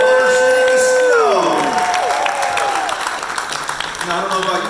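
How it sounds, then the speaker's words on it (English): A casino venue crowd in Detroit applauding and cheering loudly, with a descending musical tone and voices over the sustained clapping and whoops. "let's give a round of applause to the good folks at Motor City Casino"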